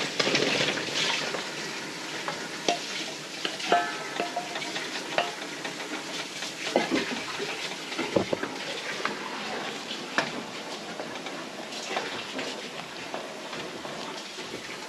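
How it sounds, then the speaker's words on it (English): A pot of broth boils with carrots and potatoes just added, giving a steady close bubbling hiss with scattered clinks and stirring knocks, and no voices. "It's boiling. I am adding the carrots and potatoes."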